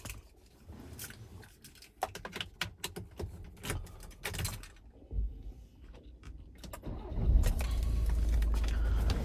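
A 2016 Citroen Dispatch 1.6 BlueHDi 115 van being started: clicks and rattles from the cabin, then the diesel engine cranks and settles into a loud, steady close idle rumble.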